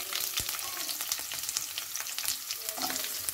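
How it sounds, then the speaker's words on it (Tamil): Onions fry in oil with popped mustard seeds and curry leaves for a Tamil sweet potato stir-fry, a soft close sizzle with intermittent stirring clicks and scrapes, fairly quiet. "இப்போ கடுகு பொரிஞ்ச உடனே வெங்காயத்தை போட்டுக்கிடுவோம்"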